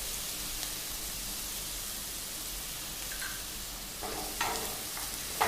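Onions frying in a pan after a pinch of salt goes in, a steady broadband sizzle running throughout with a few louder crackles and a stir or clatter near the end.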